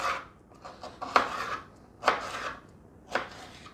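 Knife chopping bell peppers into cubes on a cutting board, a handful of separate sharp cuts spaced about a second apart, close and fairly quiet.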